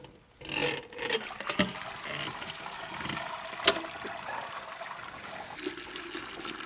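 During a home brew day for a NEIPA, wort drains and trickles back into the vessel as the mash basket is hoisted, a faint steady splashing with a few knocks and no talking.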